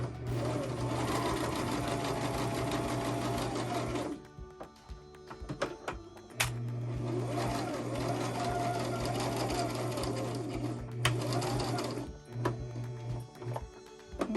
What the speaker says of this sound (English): slowly and carefully do a zigzag about 1/4 of an inch from the edge, removing your pins or your clips as you go